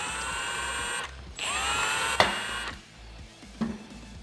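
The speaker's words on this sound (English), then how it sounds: "then we'll take a 10 millimeter socket and remove all these bolts." 10 mm socket on a power tool backing out bolts on a Polaris General clutch: close bursts of high whirring with sharp clicks between runs and a quieter tail.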